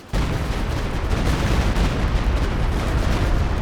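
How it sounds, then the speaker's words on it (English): A Walking Stuka rocket barrage in a strategy video game slams into a building with a machine gun inside. It comes as a sudden, loud, sustained roar of rocket impacts and explosions that holds steady throughout. "Looks like it's targeting this building with a machine gun inside."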